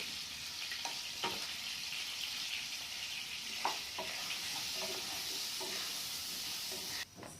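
Potatoes with a little salt and turmeric fry in hot oil in a wok, giving a steady, even sizzle throughout, with a few faint stirring knocks, until a sharp drop near the end.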